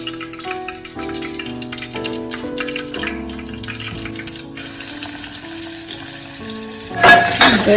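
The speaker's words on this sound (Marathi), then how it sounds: "तेलात भेंड्या घालायच्या" Okra (bhindi) dropped into hot oil for a Kolhapur-style dish, giving a steady sizzle with stirring and clinks throughout, ending in a sudden loud hissing burst as the vegetables hit the oil.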